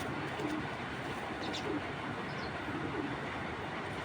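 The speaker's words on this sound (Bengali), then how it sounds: "মাদি কবুতর" A female racing pigeon coos softly in a few short, low murmuring phrases against a steady background hiss, with no talk.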